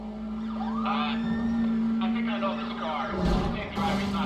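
A police siren wails in the Need for Speed World racing game, rising and falling under engine noise from the cars, with someone talking over the chase.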